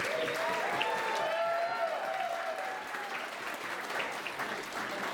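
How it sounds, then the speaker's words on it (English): Wedding guests applaud the best man, Nate Richardson, after his toast, with steady, dense clapping filling the room throughout, a few voices and cheers rising faintly above it. "Give him a big round of applause."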